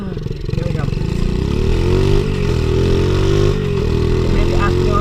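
A pit bike engine runs loud and close with a throaty, steady drone that rises slightly in pitch as it revs, holding strong throughout.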